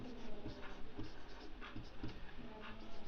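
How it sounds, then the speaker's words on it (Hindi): Chalk or marker writes a math formula for LCM on a board in a classroom; quiet, irregular taps and short scratching strokes come in quick succession, faint and close, with no talk. "तो लासा निकालने का सूत्र लिखेंगे"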